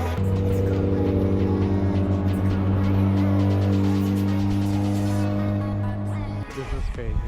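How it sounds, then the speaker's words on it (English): A 300 hp Mazda Miata rolls in second gear and is punched hard through into third, its engine a loud, close, sustained harmonic drone that climbs and holds before cutting off sharply as the throttle is released. "They're gonna do a second gear roll and punch it from second gear to third and then let off."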